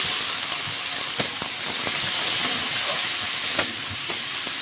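Onions, green chili and panch phoron fry in a pan in a home kitchen, a loud, continuous hissing sizzle with a few sharp pops and stirring clicks.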